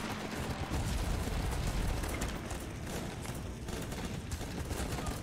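Bombing run explosions from the Guns Up video game, a dense continuous rumble of blasts and crackling fire that stays loud and steady throughout without letting up.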